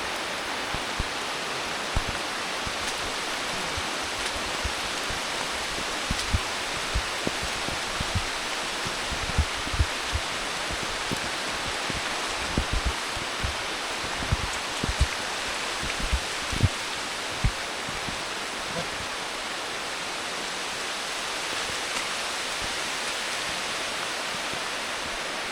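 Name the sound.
continuous monsoon rain during a forest trek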